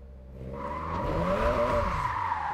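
A race car in a quarter-mile drag race at the Pira Park drag track in the video game JDM Japanese Drift Master revs with a rising, tonal engine whine while its tires squeal and skid, sounding close and continuous with no talk.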